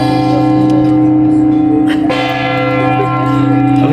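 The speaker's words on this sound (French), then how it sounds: "On entend encore les cloches." Church bells in Strasbourg ring loudly and close by, their sustained tones overlapping and humming, with a fresh strike sounding partway through.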